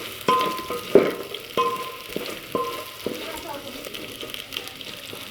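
Onions being added to a pan where garlic and silverfish are already frying, giving a steady sizzle with stirring clatter and periodic utensil scrapes and knocks against the pan, close and moderately loud.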